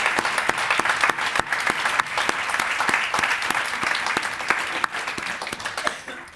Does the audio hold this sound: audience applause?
yes